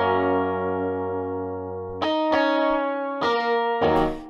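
Electric guitar layer from a music track, heard on its own with effects: a long sustained chord rings out, then several bright strummed chords hit in quick succession, clean and close with no voices.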